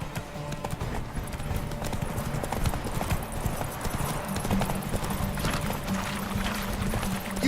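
Geralt's horse Roach in The Witcher video game trots with steady, crisp clip-clopping hooves, a continuous close rhythm heard alone with no voices.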